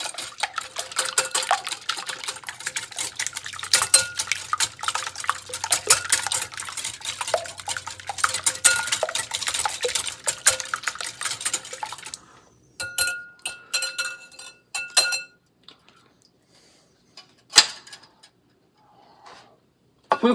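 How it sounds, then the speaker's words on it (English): A fork or whisk rapidly beats eggs in a glass bowl for pumpkin waffles, producing dense, fast clinking and tapping for about twelve seconds, then sparser scattered clinks and taps, close and fairly loud without speech. "Now to beat these eggs."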